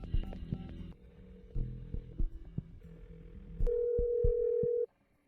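A phone call that keeps failing to connect produces a run of electronic beeps and tones, then a loud sustained tone for about a second before it cuts off abruptly.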